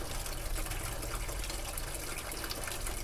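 Clear water gushes steadily out of a car radiator cooling circuit during a flush, a dense, even rushing hiss with no pauses and no talking.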